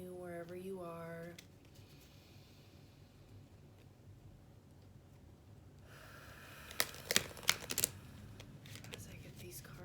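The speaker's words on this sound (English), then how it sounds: "As I get these cards shuffled," Tarot reading cards being shuffled, a quiet stretch followed by a few crisp, close riffling flicks near the end, with a voice heard briefly at the start.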